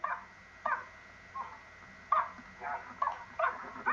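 A person imitates a dog barking, a series of about eight short, faint yaps and woofs spaced irregularly, quiet and slightly muffled, with no other talk.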